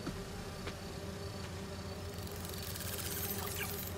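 Steady buzzing of bees and bee wolves in the Spider-Man 2 video game, a continuous insect drone that holds at even loudness throughout, with no voices.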